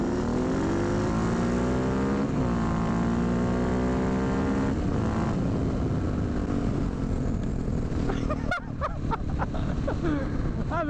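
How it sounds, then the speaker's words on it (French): A GasGas 450 motorcycle engine revs under race load, a loud continuous drone with rising and falling pitch sweeps that drop off near the end amid a few sharp clatters. "Petite course contre une gaz-gaz 450."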